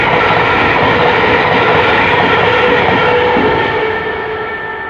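A loud train bound for Hertford East rumbles past at close range at Northumberland Park station, a steady roar of wheels and engine that begins to fade away toward the end.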